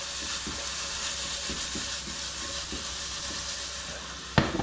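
Garlic sizzling in hot oil in a pan while a simple Japanese meal is cooked: a steady, close frying hiss with soft rhythmic stirring scrapes, ending in a brief sharp clatter.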